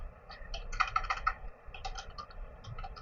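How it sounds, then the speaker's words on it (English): Someone types a file path on a computer keyboard, a quick close patter of key clicks in short uneven bursts with a brief pause midway. "then we have to type the path where we have to"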